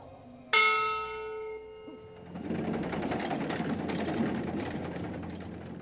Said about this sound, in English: And we'll hit the bell.